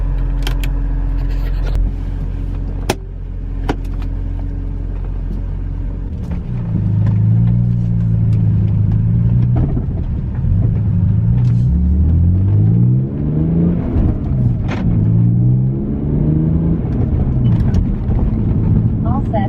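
A BMW E46 M3 engine hums at a low idle and then pulls away. Its steady drone climbs and falls through repeated gear changes and rises loud and close inside the cabin, with a little talk over it.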